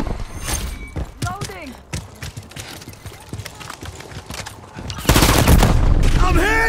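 Gunfire in Call of Duty: Modern Warfare III during a Team Deathmatch match, with sharp scattered shots and clattering effects under radio-style voices, ending in a loud, sustained burst of noise.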